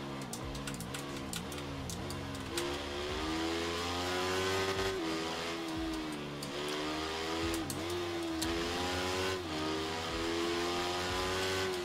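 Racing motorcycle engine on a track in the video game Ride 3, revving steadily and climbing through gears with brief drops between shifts, loud and continuous with no talk.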